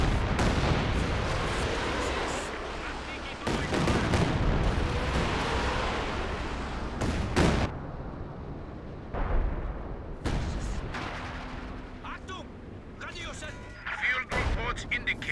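Artillery barrage in the video game Company of Heroes 2 during a 2v2 match, a series of heavy booming impacts and crackling blasts that come in bursts at varied intervals, dense and loud, separated by brief quieter gaps, with a commentator's voice in between.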